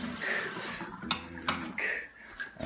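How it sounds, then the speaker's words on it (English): A spoon rinsed off in a kitchen while making lemonade, running water with a couple of sharp metallic clinks of the spoon against the sink or dish. "We actually need that spoon again. Spoon. All right, maybe rinse it off."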